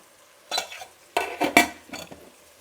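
Sambar powder being stirred into fried carrots in a pan for carrot sambar: a few short scraping, clattering strokes of a spoon against the pan, spaced apart with quiet gaps between them.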